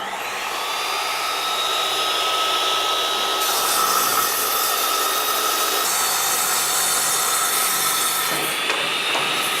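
A big sliding miter saw setup, used on wood, runs with a steady loud broadband whine that shifts pitch partway through, continuous for the whole stretch with no talking.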